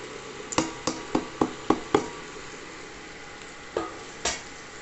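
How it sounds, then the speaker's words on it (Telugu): Chili, rasam, coriander, fenugreek and turmeric powders fry in oil for a bottle gourd curry, a low sizzle broken by a quick run of six spatula clanks against the pan and two more a moment later, close and without talk. "ఈ మసాలాలను ఒకసారి నూనెలో వేగితే చాలా బాగుంటుంది"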